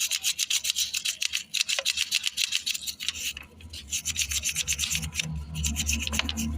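A brush scrubs motorcycle clutch parts clean with rapid, rhythmic rasping strokes, close and fairly loud, with small pauses between bursts.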